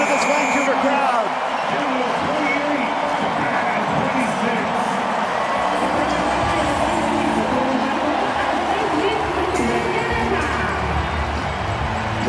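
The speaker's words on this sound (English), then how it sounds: "That ball goes off the field, and listen to this Vancouver crowd." A loud stadium crowd roars continuously at the Vancouver rugby sevens, where Canada play Japan in the Teck Tri-Nations Challenge, with a commentator's voice speaking over the dense cheering.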